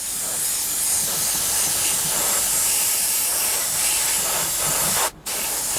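An airbrush sprays a further coat of paint onto a Tamiya 1/48 Supermarine Spitfire Mk.I scale model, a steady close hiss running almost continuously with one brief break near the end.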